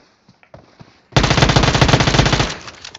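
A sudden, loud burst of rapid automatic gunfire in a Battlegrounds Mobile India match, running steadily for over a second after a few faint clicks and taps, then cutting off.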